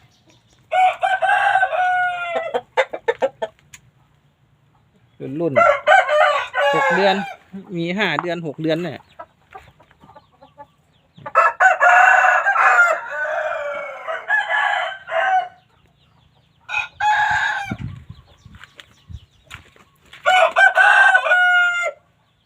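Roosters and chickens on a farm crow again and again in loud, close bursts, with clucking between the crows and someone talking briefly at times.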